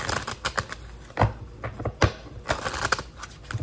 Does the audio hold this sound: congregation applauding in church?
no